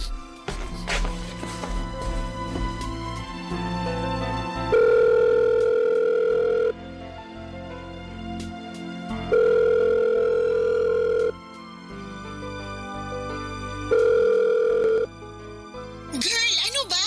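A phone's ringing tone repeats in three loud, steady bursts over background music.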